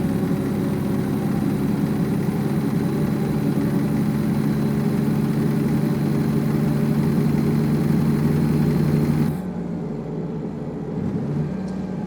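Steady, loud low drone of a Peterbilt 567 truck engine running in American Truck Simulator, holding constant for most of the stretch before dropping to a softer hum near the end.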